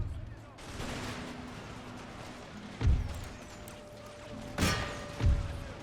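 Musket volleys in an Empire 2 battle with French troops crossing the Alps, three heavy booming shots standing out over a constant murmur of distant gunfire and battle noise.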